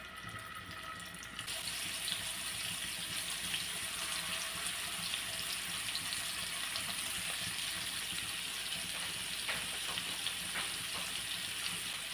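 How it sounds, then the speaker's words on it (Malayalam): Pieces of Kerala-style chicken fry in a pan, and a steady, dense sizzle starts after a brief quieter moment and carries on evenly without any talk. "ഇനി ചിക്കൻ ഒന്ന് ഫ്രൈ ചെയ്തെടുക്കാമോ"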